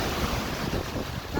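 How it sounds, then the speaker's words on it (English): Strong mountain wind gusts of 60 to 90 miles an hour roar steadily, a dense, continuous rush with heavy microphone buffeting, close and loud throughout with no voices. "that's a 90-mile-an-hour gust"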